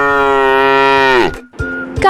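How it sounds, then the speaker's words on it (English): A single cow gives a long, loud, close moo that falls in pitch, followed by a shorter second call after a brief pause. "Cow."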